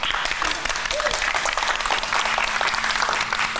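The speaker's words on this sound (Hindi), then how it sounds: "तो आप इनके लिए तालियां बजा दें।" Audience applause at a birthday celebration with cake cutting on a TV show, a dense steady crowd clapping throughout, near and loud, with voices faintly mixed in.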